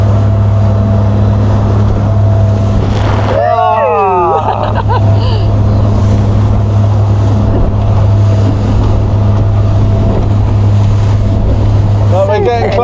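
A motorboat running at about 3,000 revs heads straight into strong wind and tide. A steady, loud engine drone carries buffeting wind noise over it, with a voice talking intermittently.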